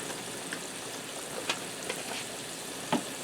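Crushed red pepper and garlic sizzle steadily in hot olive oil, a constant close crackle with a few louder pops and spatters.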